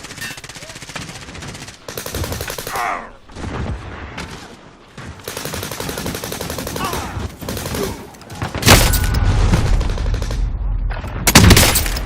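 Bursts of automatic gunfire in a Call of Duty Warzone match, loud and close, coming in several rapid volleys separated by brief gaps, with the heaviest sustained firing toward the end.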